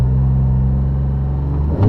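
A 2009 Porsche Carrera 4S (997) held at steady high revs for a launch control start, a loud continuous engine drone with deep harmonics, then a sharp surge as the car launches near the end.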